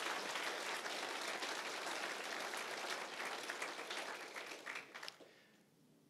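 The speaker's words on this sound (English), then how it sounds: "Round of applause for those organizations and individuals." An audience at a Washington event gives a round of applause, dense sustained clapping from a large crowd that thins out and tapers off near the end.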